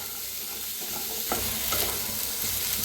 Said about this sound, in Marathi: पहिल्यांदा असंच भाजूया, नंतर थोडंसं हलकसं तेल वतून फ्राय करून घेऊया चांगलं भाजून।